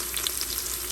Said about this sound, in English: While the onions are frying